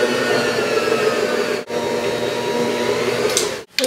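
An electric stand mixer working flour into homemade bread dough, a steady loud motor whir with two brief dropouts where it pauses.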